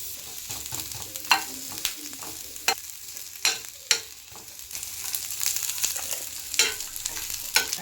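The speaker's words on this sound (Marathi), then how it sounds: "आता याच्यात थोडं तेल सोडायचं पटकन कांदा पण त्यात भाजून घ्यायचा" Onion roasting in oil in a pan, with a steady sizzle broken by sharp stirring scrapes and spatula knocks, close and fairly loud.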